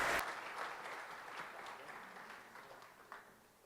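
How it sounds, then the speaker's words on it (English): Audience applause at a conference fills a hall, loudest in the first moment and then fading to a steady, softer patter of clapping over several seconds with no voices on top. "let's have a round of applause"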